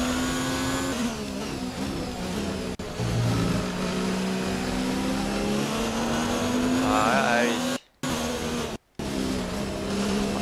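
F1 race car engine in the F1 2019 video game at the Belgian Grand Prix, a loud sustained high-pitched whine rising and falling with gear changes, cutting out briefly twice near the end.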